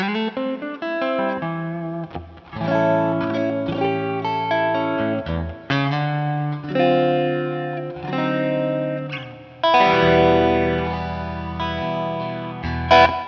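Clean, spread jazz chords and single-note lines on an electric guitar, recorded through a Universal Audio Ox Box amp setup, ring out alone and fairly loud with sustained notes and gentle pauses.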